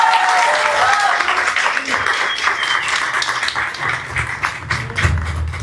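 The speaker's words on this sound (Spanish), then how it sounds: "Un aplauso, por favor, para Carolina" An audience claps for a speaker at a book presentation, a dense patter of applause that gradually thins out, with voices murmuring underneath.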